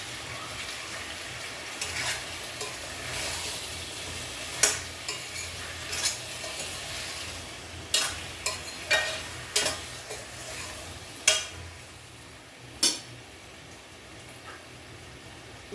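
Tomatoes and oil sizzle softly in a pan while a spoon stirs them, giving repeated scraping strokes every second or two over a steady low hiss, close by with no talking.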